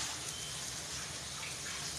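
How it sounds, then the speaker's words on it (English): Tap water runs steadily into a kitchen sink while hands are washed, a continuous close rushing gush with no talk over it. "Wash my hands."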